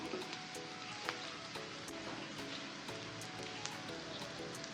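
Onion and garlic sauté in a pan with a faint, steady sizzle dotted with small pops and crackles, close by and otherwise quiet.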